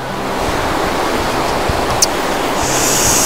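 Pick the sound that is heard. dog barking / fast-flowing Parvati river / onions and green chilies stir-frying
fast-flowing Parvati river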